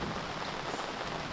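Heavy rain pours down outdoors, a dense continuous hiss of drops spread evenly across the whole moment with no pauses and no voices.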